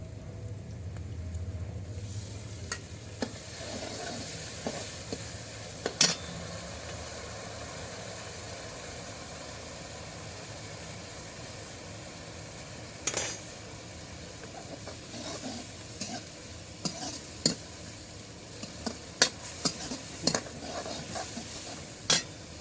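Grated tomatoes stir-fry in a pan with a steady, low sizzle, broken by occasional sharp clicks of the spoon against the pan.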